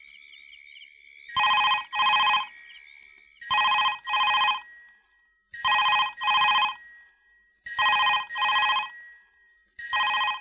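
A telephone rings in repeated double bursts, five rings spaced about two seconds apart, loud and clear with no talk.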